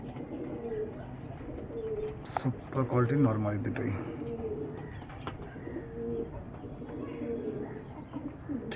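Low cooing from tiger-breed Andhra pigeons runs steadily beneath someone talking nearby, the bird sounds soft and continuous under his voice.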